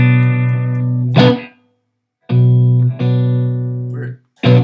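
Clean electric guitar played through a Fender Twin Reverb amp: sustained ringing notes and chords with bright harmonics, struck in separate phrases with a short silence between them, loud and close with no talking.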